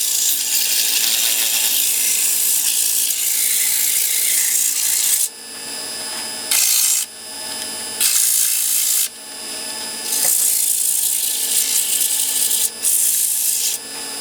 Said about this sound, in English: So there's the 80 grit.